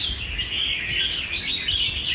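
A caged songbird sings a continuous bright run of chirps and trills, close and fairly loud, with no voices over it.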